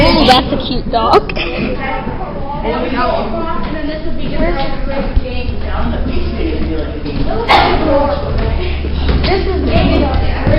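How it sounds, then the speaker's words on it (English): A dog near a street yips and barks a few times in short bursts, mixed under steady conversation and outdoor background noise. "Oh, that's a cute dog."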